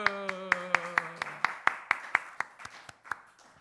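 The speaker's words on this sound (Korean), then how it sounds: "박수" Congregation clapping in unison at a church Wednesday service, about fifteen sharp, evenly spaced claps over a voice singing or speaking underneath, fading slightly toward the end.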